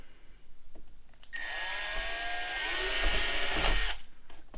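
A power drill with a 1.5mm bit whines steadily for about two and a half seconds, drilling a bed insert for a Traxxas TRX6 RC truck, its pitch shifting slightly as it bites, then stops abruptly; a few faint clicks precede it.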